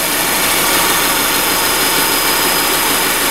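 Engine of a 2008 Subaru Outback 2.5i running at idle, a loud, steady broadband whir and hum heard up close with an unchanging level throughout and no voices.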